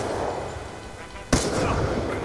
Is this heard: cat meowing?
no